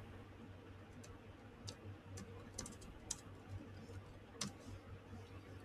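Soft, sparse clicks of a computer keyboard as a command is typed into a terminal while debugging a C program, isolated keystrokes spaced irregularly over a faint steady hum.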